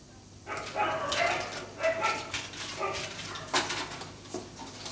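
Several dogs bark and yip at a refuge on the grounds of a Buddhist monastery, a string of close, overlapping barks with faint clattering beneath.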